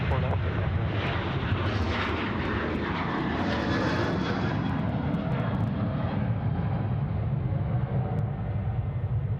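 Airliner taking off on runway 34 left at Sydney Airport, a steady loud jet engine roar holding throughout at close range, with faint talk at the start.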